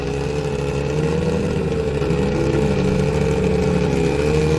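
A 670 HP Subaru WRX hill-climb race car with a hood exit exhaust holds a loud, steady, rumbling engine drone close by, with slight pitch wavering throughout and no talking.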